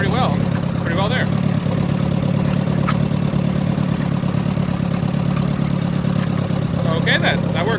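A small half-track tractor engine runs steadily while plowing snow, a continuous close drone with faint clanks, and a voice speaks over it at moments.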